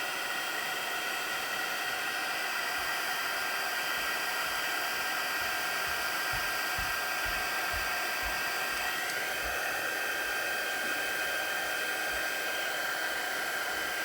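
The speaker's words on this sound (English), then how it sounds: "before I take my heat tool to my product, I am going to wait so that it gets nice and hot" A heat tool melting embossing powder blows a steady, close airy roar with a whining tone, running unbroken for the whole stretch with a slight pitch shift midway.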